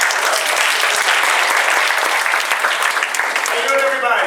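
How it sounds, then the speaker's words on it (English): Applause from an audience at a CivicLab Chicago civic talk, a dense, loud, continuous burst of clapping lasting several seconds and tapering slightly at the end. "So give him a round of applause."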